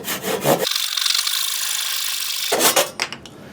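A hand saw cuts through wood while carving a kuksa, a few rasping strokes with one long sustained pull, close and clear, with no talk.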